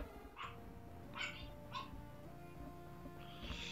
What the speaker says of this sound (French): les chiens qui aboient pour des conneries encore